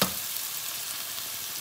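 Eggs landing in a hot pan for shrimp fried rice, with a burst of frying at the start settling into an even, close sizzle.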